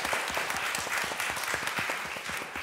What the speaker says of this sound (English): I'd like you all to give a round of applause to our